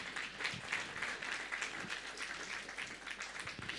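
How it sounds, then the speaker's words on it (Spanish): A church congregation at a Sunday service applauds the worship group Canto de Esperanza, a steady wash of many hands clapping that holds evenly throughout, moderately loud with no voices on top. "Vamos a dar una vez más, por favor, fuertes aplausos al grupo Canto de Esperanza"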